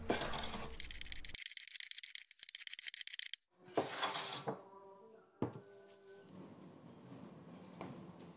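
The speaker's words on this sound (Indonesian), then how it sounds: "merapikan dan menghaluskan sisi-sisi bagian kaki mejanya menggunakan pahat dan ketam tangan atau hand plane" Pine wood table legs being smoothed with a chisel and hand plane: rapid rasping scrapes, then separate planing strokes and knocks, fairly close, with no talking.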